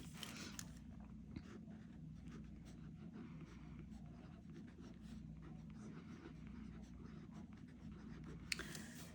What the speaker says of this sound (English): I want to write it in the teal color this year.